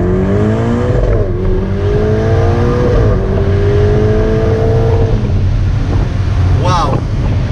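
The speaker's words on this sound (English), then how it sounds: "I'm going to make you hear the noise of that car because we have a straight line as well." A 2018 Ferrari Portofino accelerates along a straight, its engine note rising and shifting through gears under heavy wind buffeting, loud and close from inside the open car.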